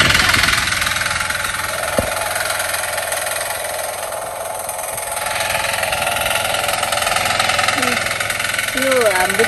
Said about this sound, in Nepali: यो हाम्रो चाहिँ अलिक नयाँ मेसिन भएर चाहिँ यसको के भन्छ यो यसको दाँत अलिक लागेको छैन कि त्यसैले अलिक जोत्न ढिलो भएको हो।